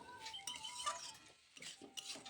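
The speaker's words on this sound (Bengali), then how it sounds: "অনবরত নাড়িয়ে নিচ্ছি।" A spoon scrapes and clinks against a pan while methi greens curry is stirred, giving quiet, intermittent metallic taps and scrapes with no talking.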